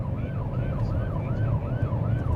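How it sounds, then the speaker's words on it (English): A police car siren wails in a steady rising and falling cycle, loud and close over low road rumble while responding to a rush-hour crash. "So we respond to these calls, lights and sirens."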